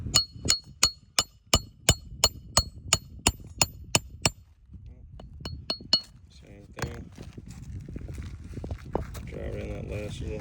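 Hammer driving extra-long nails through two layers: about a dozen sharp, evenly spaced metallic strikes close by, then a few scattered taps amid shuffling and background noise.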